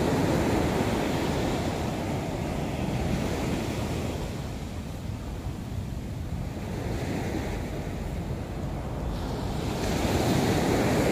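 Sea surf rolling onto the beach at Nha Trang on a morning walk, a continuous wash of breaking waves with wind buffeting the microphone, steady and fairly loud with no voices.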